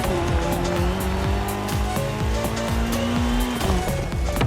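Rally car drifting around a racing game course, its engine roaring and climbing through gears while tires squeal in repeated skids, loud and constant from start to finish.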